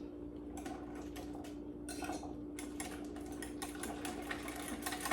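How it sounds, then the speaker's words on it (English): Rapid clinking scrapes of a whisk beating a lemon dessert mixture with zest in a bowl, quiet and steady throughout, over a constant low hum, with no voices. "Now that I've whisked that"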